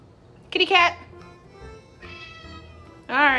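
A cat meows twice, short bright cries heard close and clear against a quiet background, with a faint murmur in between.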